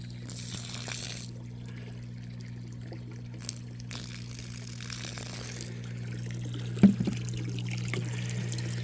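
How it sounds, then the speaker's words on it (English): Water poured or let out while setting up a backyard fish pond in a hot tub, a steady soft trickle over a constant low pump hum, with a small splash near the end. "I'm gonna let some more of this water out. Oh, pour it over."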